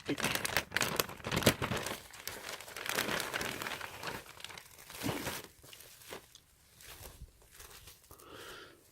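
A crinkly plastic Ziploc bag from a Palace Skateboards clothing unboxing is pulled at and opened, giving close, quiet bursts of crackling and crumpling that thin out toward the end, with faint speech.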